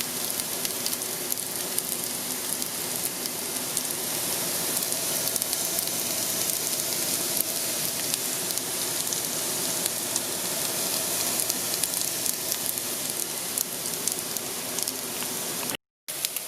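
Gnocchi pan-fried on high heat until browning, giving a constant close, even sizzle that runs unbroken except for one brief dropout near the end, with no talking.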